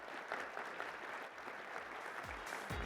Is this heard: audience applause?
yes